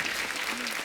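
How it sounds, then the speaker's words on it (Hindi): Brief burst of studio audience clapping on a comedy talk show, steady and moderately loud for under a second. "जोरदार तालियां हो जाए यार"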